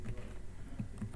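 Keystrokes on a computer keyboard while entering formulas into data software, a loose run of light clicks with a few firmer taps.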